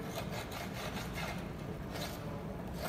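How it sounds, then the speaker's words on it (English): A potter's knife scrapes wet clay off a freshly thrown cylinder, giving a steady close rasping sound with short repeated strokes and no talking. "I'm just going to scrape all my clay off of there so it's nice and smooth"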